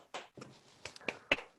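Scattered clapping from a small group of parents for their children at a church parenting class, several separate close hand claps rather than a full round of applause, soft and sparse.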